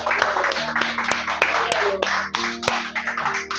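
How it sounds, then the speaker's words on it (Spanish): Church congregation claps during a sermon, a moderate spread of hand claps mixed with sharper individual taps, alongside sustained musical tones in the background. "Yo le pido un aplauso a Dios"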